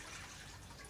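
Water poured into the water drawer of a smoker, a steady close splashing and trickling stream that runs unbroken for the whole second, with no talk over it.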